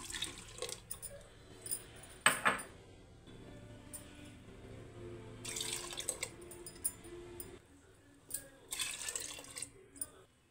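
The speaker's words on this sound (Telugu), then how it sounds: "నాలుగు కప్పుల దాకా నీళ్ళు పోసానండి" About four cups of water are poured into a radish sambar, with short splashing pours and drips in intermittent bursts, fairly faint, with some quiet talk.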